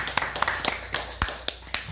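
Steady rhythmic clapping during a church sermon, about four even claps per second, close and fairly crisp above a low hum of the hall.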